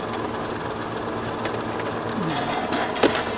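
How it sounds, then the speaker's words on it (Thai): A cooling fan runs on a DIY 12V 12Ah power box with a 1000W AC inverter, giving a steady close whirring hum with a faint mechanical rattle, constant throughout with no talk. "ไม่รู้พัดลมตัวนี้มันใช้สักกี่วัตต์นะไม่น่าจะเกิน 80 วัตต์"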